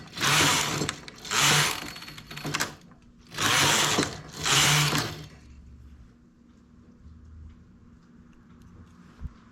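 A domestic knitting machine runs its carriage across the needle bed in four loud mechanical rattling passes, working a knit-and-purl stitch pattern for a neck scarf, then falls to a faint hum and a few small clicks.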